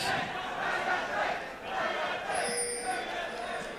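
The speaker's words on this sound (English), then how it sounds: "the crowd yelling for Fnatic" A large esports crowd roars and cheers for Fnatic at the 2015 EU LCS Spring semifinal, shouting voices blending into a dense, steady wall of noise.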